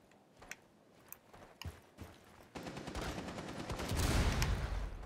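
Pistol fire in a video game. A few sharp, isolated shots ring out at first, then a denser rattle of rapid shots builds and grows louder toward the end.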